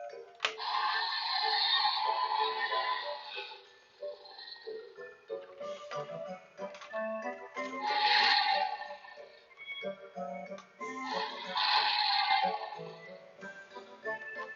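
Super Colossal T-Rex dinosaur toy sounding electronic roars, three loud raspy bursts separated by quieter clicking and rustling as the jaw is worked.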